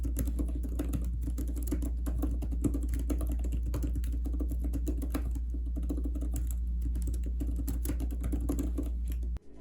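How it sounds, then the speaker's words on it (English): Typing on an Apple Magic Keyboard for iPad Pro 11-inch, a quick, even stream of soft, close key clicks over a low steady hum, lasting throughout with no talking. "Typing on this is comparable to typing on a laptop, and it feels really nice."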